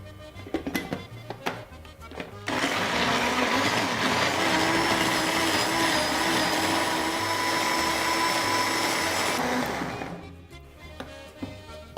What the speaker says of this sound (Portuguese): Agora vamos tampar o liquidificador e bater.